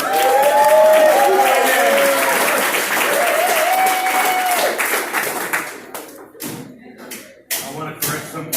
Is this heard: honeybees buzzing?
no